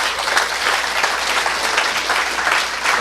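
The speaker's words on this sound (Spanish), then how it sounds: "Pido para el ingeniero un fuerte aplauso." A conference audience applauds a speaker at a corporate talk on artificial intelligence, dense even clapping that stays loud and continuous throughout, heard close.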